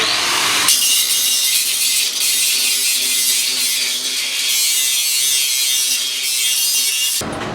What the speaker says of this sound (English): where we cut these protective ears off, we got to grind to the top real good